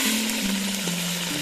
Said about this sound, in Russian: Засыпаем ребрышки. Бараньи ребрышки. В жаркое, горящее, кипящее курдючное сало.